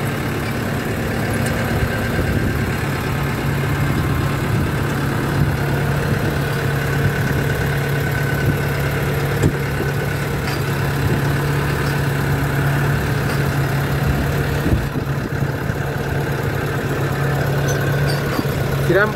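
A Case JX55C tractor engine idling close by, a steady low rumble with an even mechanical hum and no revving, running alone throughout.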